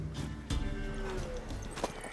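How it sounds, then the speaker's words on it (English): A horse in the video game The Witcher 3 snorts and shifts with hoof clops amid game music and ambience, a few sharp thuds punctuating the mix. "Worthy of the best horse. The mare is yours."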